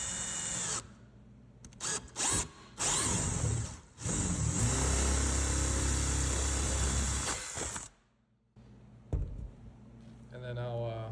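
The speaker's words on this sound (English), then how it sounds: "I'm just going to drill the hole" A power drill boring a hole through wood siding on a pole barn wall, with short bursts followed by a long steady whine and grind of the bit through the wood, loud and close, ending with a brief pause and another short burst.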